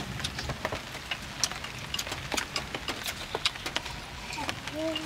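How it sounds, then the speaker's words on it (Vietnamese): Light rain falls steadily outdoors at a rural countryside home, a soft continuous patter with scattered sharper drips close by, while a voice talks briefly near the end. "mưa không lớn."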